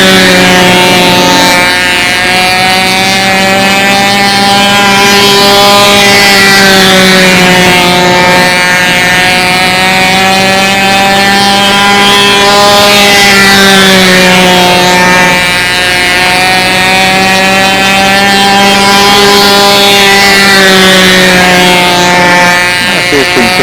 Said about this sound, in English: Let's see if we can catch just one engine running.